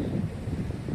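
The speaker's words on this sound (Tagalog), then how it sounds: "Kaso nga lang talagang malakas ngayon ang hangin." Strong wind on the Ka-Ho trail in Macau buffets the microphone with a continuous low rumbling roar, loud and unbroken for the whole moment.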